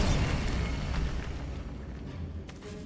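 Bombarda spell blast in Hogwarts Legacy inside a decayed catacomb, a loud broad explosion with a long rumbling tail that fades gradually, with a brief crackle near the end.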